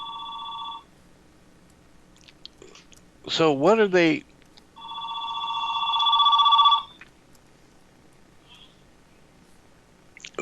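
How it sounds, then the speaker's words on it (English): A telephone rings in another room with two electronic trilling bursts, separated by a brief stretch of speech; the rings are fairly loud and clear, with a quiet background. "Whoop, that's a phone."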